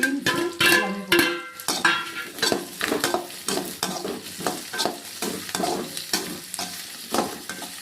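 Carrots, beans and other vegetables being stir-fried in a pan: a rapid rhythmic series of scraping, clattering spatula strokes over a low continuous sizzle, close and loud with no voices.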